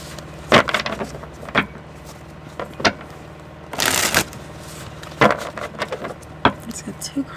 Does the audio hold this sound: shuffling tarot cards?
yes